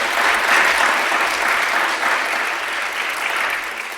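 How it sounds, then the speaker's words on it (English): An audience at a League of Women Voters candidates night breaks into steady, sustained applause, a dense wash of clapping filling the room with no voices over it. "She deserves a round of applause for her efforts."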